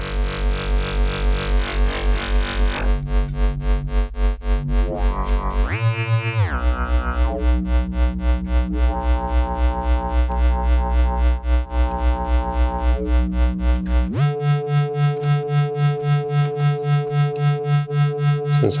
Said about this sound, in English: so instead of sine wave, I've now got the wave folder output.